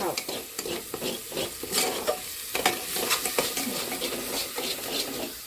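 Thick khichdi is stirred in a pot with steady scraping and sloshing strokes, a spoon knocking against the metal sides under a low sizzle throughout, close and fairly loud with no voices.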